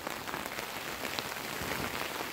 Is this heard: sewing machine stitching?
no